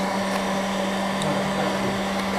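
A continuous whooshing heat gun blows hot air steadily at close range with a constant hum, no voices, curling leaves to shape a flower.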